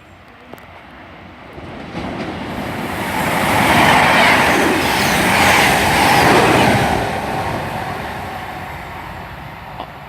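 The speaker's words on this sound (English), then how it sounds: "coming through now we've got a passing service from York to Exeter St" A York to Exeter St David's passenger train passes through Barnt Green station, a rumbling roar that swells to a peak mid-pass and slowly fades, with no talk.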